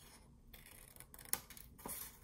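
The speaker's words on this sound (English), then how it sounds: "And I'm going to cut this little square off." Scissors snip a small square off a sheet of paper during a flip book craft, a few short crisp cuts standing out from a quiet background with no talking.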